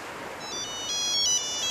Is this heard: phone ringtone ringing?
yes